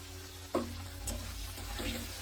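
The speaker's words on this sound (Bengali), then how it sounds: "প্রথমে আলুটা ভেজে নিচ্ছি" Soft, steady sizzle of potatoes frying in a little oil with turmeric in a wok, with a couple of light scraping stirs, heard up close.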